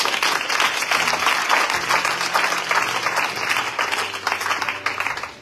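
Church congregation applauding the Lord, a dense, sustained burst of many hands clapping, loud and close, with a few voices and low tones underneath.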